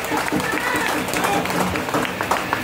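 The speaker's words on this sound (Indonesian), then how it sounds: "Tepuk tangan yang meriah untuk beliau berdua saudara." Supporters at a PDIP party rally in Tangerang Selatan clap for two figures being introduced, continuous crowd applause mixed with shouting voices, loud and close throughout.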